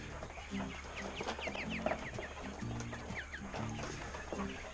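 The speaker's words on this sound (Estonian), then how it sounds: "See on täitsa kana." Hens cluck steadily in a farm pen among other poultry, with repeated short clucks and chirpy calls overlapping at close range, no talk.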